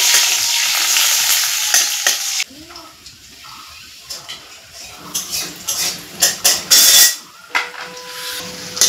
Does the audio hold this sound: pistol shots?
no